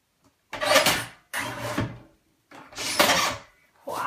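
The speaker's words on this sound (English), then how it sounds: "excuse me and my squeaky trimmer." A squeaky paper trimmer slices card lengthwise in four separate close, scraping strokes, each a grinding squeal lasting about half a second to a second, with short silent gaps between.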